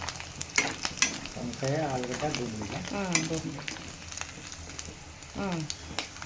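Pieces of bommidi fish fry in hot oil until golden, a steady crackling sizzle with stirring clatter, while a voice talks intermittently over the cooking.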